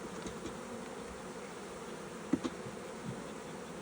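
A dense mass of honey bees drones steadily inside a brood box during a nuc split, with a continuous low hum and a couple of brief sharper buzzes near the middle.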